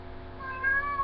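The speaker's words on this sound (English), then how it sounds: "and that is my cat." A house cat meows indoors, a short nearby call of about a second rising slightly in the middle, heard alone against quiet room noise.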